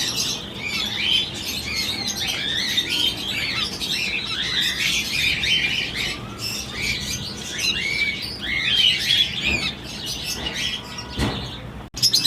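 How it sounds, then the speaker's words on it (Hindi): Finches, including home-bred lutino birds, chirp and tweet continuously at a bird market, a dense layer of many high, bright calls that carries on steadily with no one speaking. "ये नाज़रीन फिंच है माशाल्लाह से।"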